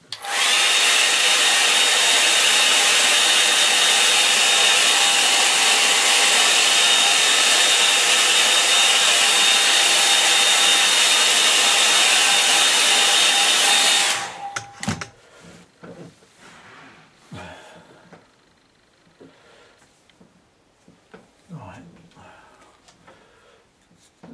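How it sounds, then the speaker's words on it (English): A hair dryer blows loudly and steadily for most of the clip, then cuts off abruptly, leaving quiet scattered handling noises. "I'm going to give it the hairdryer treatment"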